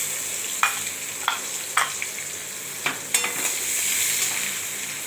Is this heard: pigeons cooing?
no